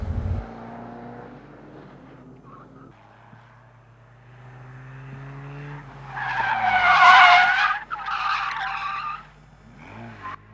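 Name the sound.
car skidding sideways on track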